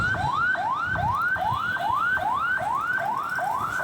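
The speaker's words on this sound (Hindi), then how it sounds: "एम्बुलेंस शोर करती हुई आ रही है।" An ambulance siren wails on Jahangir Road in Karachi at night, a loud repeating rising whoop cycling about twice a second over a low rumble of street traffic.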